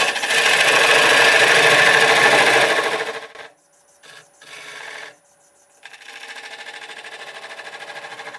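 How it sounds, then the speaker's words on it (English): Diamond point turning tool cutting elm wood on a lathe: a loud, steady scraping rasp for about three seconds, then broken bursts separated by short gaps, and a quieter continuous cut to finish. "Use this tool here with the diamond point on it."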